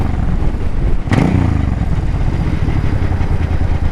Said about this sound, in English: this is the Suzuki Boulevard C50T